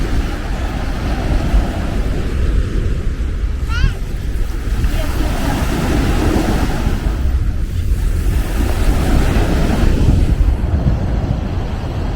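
Icy wind gusts roar across the seaside beach at Atakum in Samsun, with surf rumbling beneath and heavy buffeting on the microphone, a loud, constant blustery noise that barely lets up.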